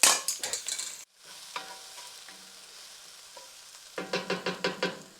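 Garlic and red pepper sautéing in a pan, stirred with a utensil that scrapes in quick rhythmic bursts at the start and end, while a quieter sizzle fills the middle, no talking.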